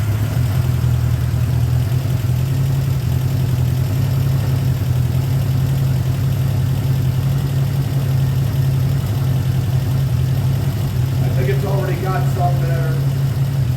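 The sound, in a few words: 1979 Honda GL1000 Goldwing motorcycle engine starting and idling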